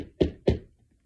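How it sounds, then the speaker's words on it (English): Two firm knocks land on a door in quick succession, close and dull, then silence. "So she knocked on her friend's door."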